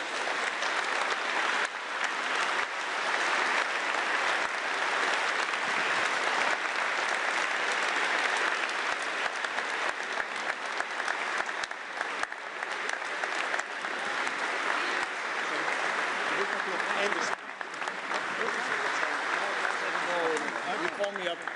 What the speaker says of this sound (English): welcome the Bundeskanzler of Germany, Mr. Merz, with a warm applause